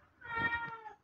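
A hungry small cat gives a single close, drawn-out meow lasting under a second, clear against a quiet background.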